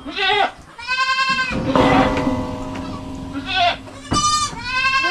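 A young, pregnant female goat on a farm bleats several times up close, with loud wavering cries at the start and again near the end, while a voice talks briefly in between.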